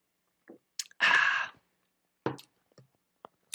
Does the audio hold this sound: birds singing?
no